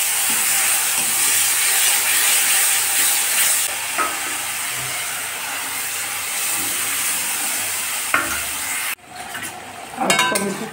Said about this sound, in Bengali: এখন আমি টমেটোটাও দিয়ে দিলাম।